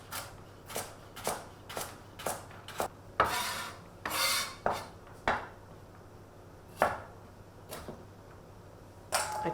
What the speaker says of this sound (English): line them up with the end of your knife and chop, creating some small cubes